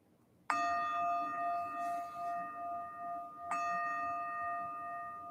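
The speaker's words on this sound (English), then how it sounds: "We'll signal the beginning and end of our meditative practice with 3 chimes of the bell." A meditation bell struck twice, each a bright ringing strike with a long sustained shimmering decay, the second strike about three seconds after the first, in a quiet room.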